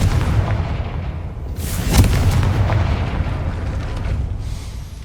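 A Confringo spell blast in the video game Hogwarts Legacy: one heavy booming explosion about two seconds in, over a dense rumbling game background that lingers after it.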